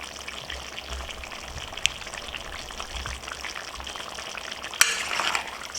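Trini curry stew chicken sizzles steadily in a cast iron pan while being stirred, a soft continuous frying crackle with a couple of sharp scrapes or knocks of the spoon against the iron.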